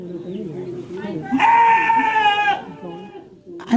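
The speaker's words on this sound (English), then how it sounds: "It is a sheep." A sheep gives one drawn-out bleat of about a second over steady background murmur and faint voices.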